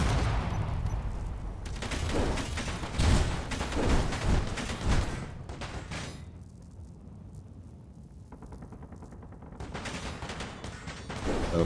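Turrets firing in the space game Space Engineers during a scrapyard battle: dense, loud volleys of rapid automatic fire with booming impacts, easing into a quieter lull before the barrage picks up again.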